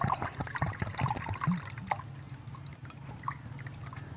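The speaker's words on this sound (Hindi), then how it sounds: "पानी शामिल कर लिया।" Water is poured into a cooking pot set on an outdoor village fire for boiling rice, with irregular splashing and trickling at close range against steady background noise and no talk.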